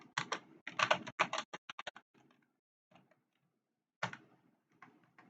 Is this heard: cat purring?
no